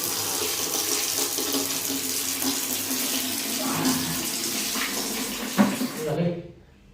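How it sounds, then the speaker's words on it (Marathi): Water running and splashing steadily at a sink or bath as someone washes their face, a continuous close wet rush with a few louder splashes near the end before it cuts off. "मस्त पैकी आहे ना तोंडावर पाणी मारून घेतो पहिले"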